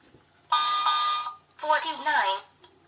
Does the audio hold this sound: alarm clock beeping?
yes